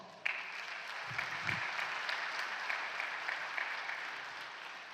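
An audience at a public library panel event applauds, a steady moderate wash of clapping that starts abruptly and holds, with a brief low murmur or thump early on.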